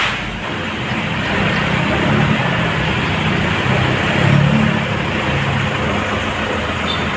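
Engines of cars and other vehicles queued in a line, a steady low rumble of idling motors that stays loud and even throughout with no talk.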